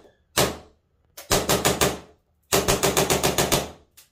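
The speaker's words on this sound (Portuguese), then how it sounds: "vou apontar para o local seguro aqui e efetuar os disparos" A Tokyo Marui 1911 Series 70 nickel-finish Colt Government airsoft pistol fires BBs: one sharp snap, then a quick string of about five shots, then a longer rapid run of around eight, loud and close with silent gaps.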